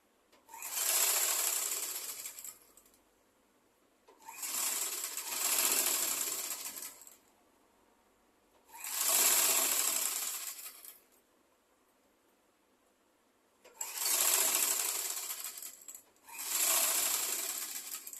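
Sewing machine stitching an umbrella skirt, running in five separate bursts of rapid whirring stitches two to three seconds long with quiet pauses between, close and clear, no voices.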